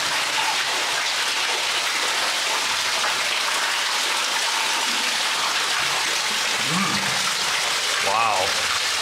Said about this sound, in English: we're coming up on this gusher of a water opening in the ceiling.